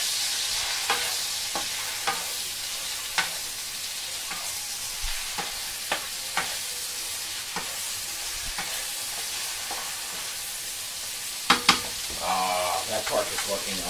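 Pork fries in a stir fry pan with a continuous bright sizzle, broken by occasional clicks and scrapes of stirring and a brief clatter near the end.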